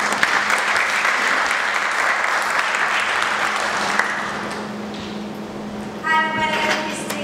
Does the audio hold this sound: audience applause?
yes